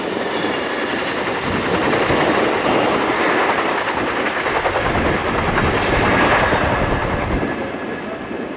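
An RAF Chinook twin-rotor helicopter at an air show role demo positions for a running landing, a loud steady roar with rhythmic rotor chop that swells and eases slightly, heard alone without talk.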